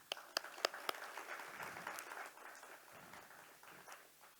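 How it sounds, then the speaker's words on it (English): An audience at an entrepreneurship summit's main plenary and awards applauds the organising team, opening with a few sharp separate claps and then settling into softer, distant sustained applause, quiet overall. "Round of applause for the team."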